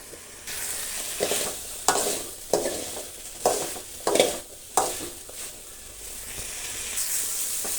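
Tamarind masala for an okra, potato and lentil sambar fries in a black pan, a close sizzling hiss swelling with each of about eight rhythmic stirring strokes before settling into a steady fry.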